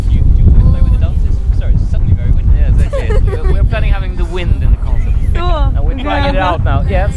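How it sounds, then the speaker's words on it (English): Gusty wind buffets an outdoor microphone in a steady low rumble through the whole stretch, with several people talking over it. "it's suddenly very windy"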